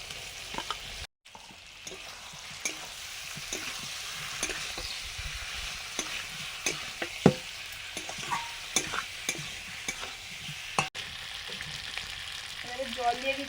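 Fried potato and pointed gourd stirred into cooked-down spices in a pan, with steady low sizzling and frequent scraping stir strokes throughout, close and fairly quiet, no talk.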